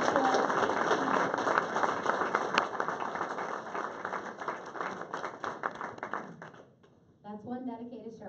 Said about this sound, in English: Let's give a round of applause for the sheriff.